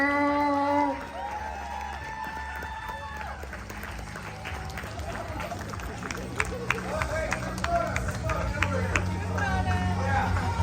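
A convention audience at a Smallville panel in Parsippany, New Jersey claps and cheers in a dense, steady wash of applause, mixed with crowd babble and voices, after a brief tonal opening.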